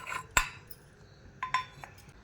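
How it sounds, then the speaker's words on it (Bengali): A few sharp metallic clinks ring out against a grinder jar as roasted, cooled spices are tipped into a mixer grinder in a home kitchen while cooking chicken bhuna, with quiet pauses between. "মিক্সিতে ঢেলে দিচ্ছি।"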